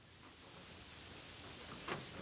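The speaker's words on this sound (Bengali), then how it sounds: "শুরু হয়েছে মুষলধারে বৃষ্টি।" Heavy pouring rain falls at night around an empty rural railway station, a steady dense hiss with no gaps and one brief louder gust or splash near the end.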